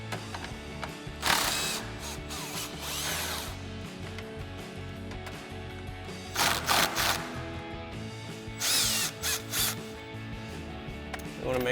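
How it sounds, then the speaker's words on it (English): A ratchet backs out the 10mm screws holding the grille of a 2014–2018 Sierra 1500, with bursts of rapid clicking separated by pauses and a low background hum, close and fairly loud. "Now we can go ahead and remove the last 2 10mm screws holding our grill in place."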